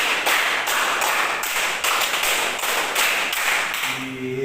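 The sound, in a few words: group clapping in counted rhythm pattern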